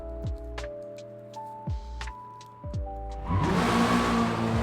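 Racing car engines in a video game rev up in repeated rising whines, each pull climbing in pitch before shifting, then swell into a dense, loud roar as the cars take off.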